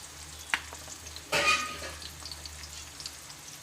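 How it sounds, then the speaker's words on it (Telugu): Chopped onions drop into hot oil for a blood curry, giving a sudden burst of sizzling that settles into a quieter, steady frying hiss with a few small clicks. "నేనైతే ఆనియన్స్ వేస్తున్నాను"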